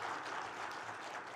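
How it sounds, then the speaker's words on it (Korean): A church congregation applauds the youth group in a steady, even wash of clapping from many hands, moderately distant and continuous for the whole moment, with no voices above it. "우리 다시 한번 중고등부 친구들에게 크게 한번 박수하겠습니다"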